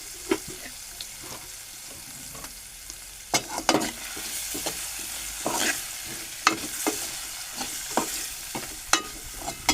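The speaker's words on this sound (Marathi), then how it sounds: "आणि टोमॅटो पण टाकू. जरा परतून घेऊ." Tomatoes sizzle and fry in a pan while being stirred for a spicy dal, with a steady hiss under scraping spoon strokes and sharp clinks against the pan.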